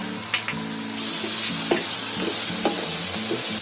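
Steady sizzling of onions and potatoes frying in a hot pan, with a few spoon scrapes and stirring clinks breaking through.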